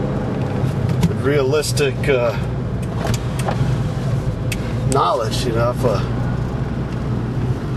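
A 2001 Saab 9-3 Viggen convertible hums steadily along the road, its engine and road noise sitting low beneath someone talking throughout.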